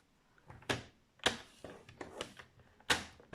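Sharp scraping strokes of a paper cutter scoring a fold line into white cardstock for a small Easter box, several quick irregular passes, close and fairly quiet.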